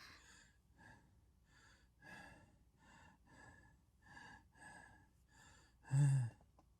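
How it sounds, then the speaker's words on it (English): A woman's labored breathing: a run of about ten short, rhythmic, raspy gasps and snorts close up, ending in one louder, heavier gasp. "her breathing labored"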